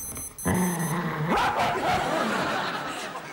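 A dog vocalizes on a TV comedy show, a drawn-out, rising and wavering yowl-like bark that sounds close and loud, starting abruptly and carrying on with a whiny, speech-like contour.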